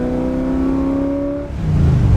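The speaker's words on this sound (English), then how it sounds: "Wow, listen to those side pipes." A 1968 Chevrolet Corvette convertible with side exhaust pipes, opened up on a farm road: a loud close engine note climbing steadily in pitch under acceleration, then a brief dip and a deeper rumble as it shifts.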